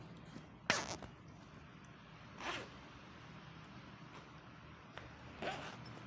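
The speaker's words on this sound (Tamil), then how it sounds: "இந்த ஜிப்புனுடைய சவுண்டே அழகாக இருக்கும்." Zipper on a double-collared full-sleeve T-shirt, pulled in three short quiet zips spread apart over a faint steady background hiss.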